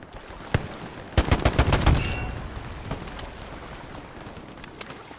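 A rapid burst of gunfire rattles through a match of a tactical shooter game, several quick loud shots bunched together after a single earlier crack, followed by a few scattered distant pops over low background noise.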